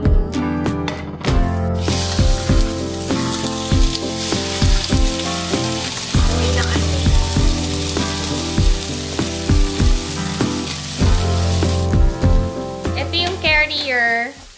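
Food fries in a little olive oil in a scratched pan, a steady loud sizzle that runs throughout with clattering and stirring knocks, while music plays and people talk nearby.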